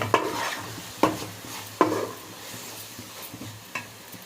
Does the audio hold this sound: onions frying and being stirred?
yes